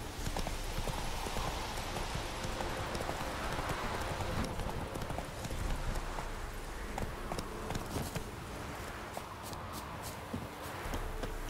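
Roach, the horse in The Witcher 3, clip-clops along with a steady run of hoof beats close by, trotting and shuffling throughout, with occasional game ambience and faint other sounds mixed in.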